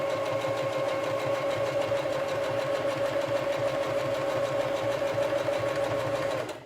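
A sewing machine driven slowly by a foot pedal stitches steadily close by, its even mechanical hum and needle rhythm running unbroken until the motor stops at the very end.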